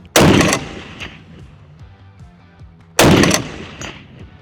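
Two very loud, close gunshots from a Bullpup CQB .50 caliber rifle, spaced about three seconds apart, each a sharp blast followed by a rolling outdoor echo that decays.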